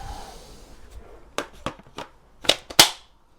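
Sharp plastic clicks and snaps as an 18V 5 amp hour battery is handled and clicked into a Ryobi RID18BL-0 impact driver, a handful of close, crisp transients with the loudest latch snaps at the end.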